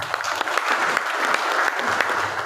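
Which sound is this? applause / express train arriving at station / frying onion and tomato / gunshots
applause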